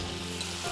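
Pinch of asafoetida hitting hot oil in a pan for eggplant upma, giving a brief, steady close sizzle with a faint hum underneath and no voices.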